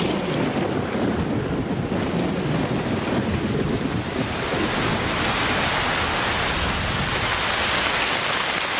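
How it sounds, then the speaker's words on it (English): Heavy rain pours down in the Amazon rainforest as the wet season arrives in full force, a dense, loud, unbroken roar of rainfall with no voices. "By the end of December, the rains have arrived with full force."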